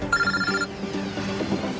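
A mobile phone ringtone sounds inside a moving car, a bright repeating melodic tone that plays for about half a second, with continuous engine and road rumble underneath.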